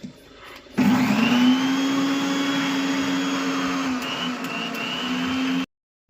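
A mixer grinder blending coriander, chilli, ginger and garlic into chutney runs as a loud, steady motor whine for about five seconds, its pitch dipping slightly near the end before it cuts off sharply.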